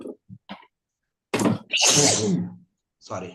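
A single sharp sneeze bursts out close by in a quiet room, followed by a brief spoken apology; short voiced sounds come just before it.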